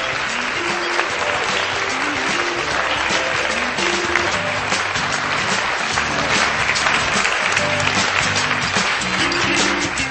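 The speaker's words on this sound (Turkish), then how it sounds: "alkışlarla sahneye davet ediyorum." Sustained, dense applause fills a stage event in Turkey as the chairman of Akfen Holding is welcomed on stage, a steady loud wash of many hands with no talk over it.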